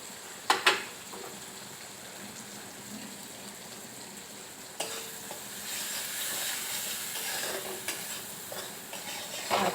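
Food is stirred in a frying pan as turmeric and salt go in, with a soft steady sizzle and scraping, a few sharp utensil knocks, and the frying growing louder halfway through.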